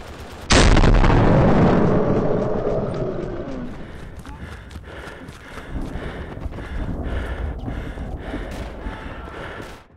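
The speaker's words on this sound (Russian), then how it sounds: "Граната!" A grenade explodes in the World War II shooter Ostfront, a loud close blast that rolls off into a long fading rumble, followed by scattered distant gunfire and movement.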